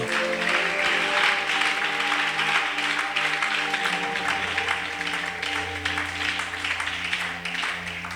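A church congregation applauds and cheers for the Lord during a worship service, producing dense, sustained crowd clapping throughout with steady held tones underneath.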